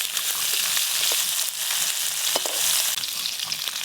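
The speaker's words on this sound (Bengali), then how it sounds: "এই দেখুন মাছগুলো কিন্তু এরকম হালকা করে ভাজতে হবে" Freshly caught fish fry lightly in oil in a home kitchen pan, giving a steady, even sizzle with faint crackles and a few soft utensil touches, no voices.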